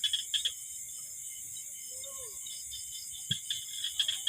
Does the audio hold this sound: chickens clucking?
no